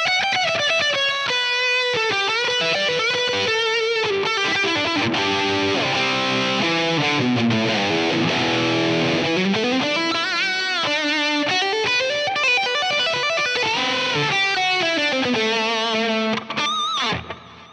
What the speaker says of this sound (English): there's a solo tone also where I add even more delay and reverb